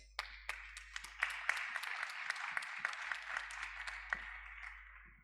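Audience applause following a panelist's presentation at a French conference on ecological and inclusive digital opportunities: dense, steady clapping from a room of listeners, sharp individual claps over a continuous wash, lasting several seconds without speech.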